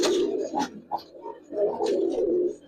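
Giribaz and coloring pigeons coo in short throaty bursts, a few rolling calls close by with brief gaps between them.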